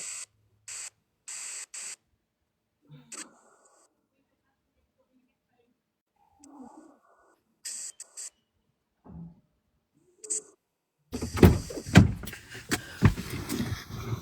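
A car door opening and shutting as someone gets into a vehicle, with a few brief clicks and shuffles before a louder burst of door and seat movement at the end.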